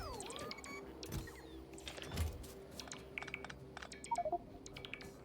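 Machines in the video game Factorio clack rapidly and irregularly, like typewriter keys, with short bursts of tapping over a low steady hum and a few soft electronic tones.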